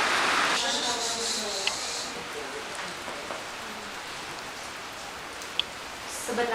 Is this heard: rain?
yes